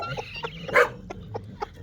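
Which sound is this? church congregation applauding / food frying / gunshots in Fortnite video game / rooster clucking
rooster clucking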